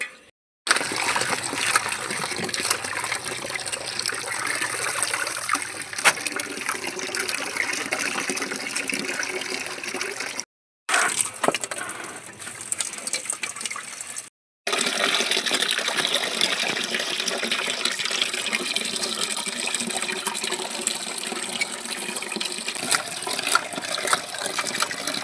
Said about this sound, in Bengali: এখন আমি শাকটা ধুয়ে নিয়ে এসে পালং পনির রেসিপিটা তৈরি করব